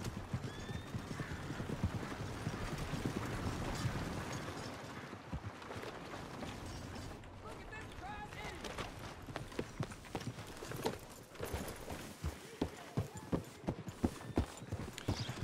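Horse hooves clip-clop in an uneven, quickening rhythm, with a horse whinnying early on amid busy game-like ambience and no talk, in the video game Red Dead Redemption 2.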